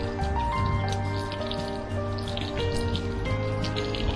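Water runs through a garden hose with a flushing attachment cleaning out an RV holding tank, a steady close rushing and dripping spatter with a continuous low hum beneath it.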